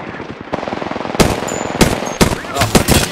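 Rapid automatic gunfire from a shooter video game, with sharp bursts and loud single shots cutting through a constant layer of battle noise, no voices.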